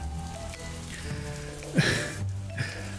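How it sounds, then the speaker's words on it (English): Steady rain pours down in an unrelenting downpour, a dense continuous wash with a brief sharper splash partway through, moderately loud with no voices. "the rain that continues its unrelenting downpour"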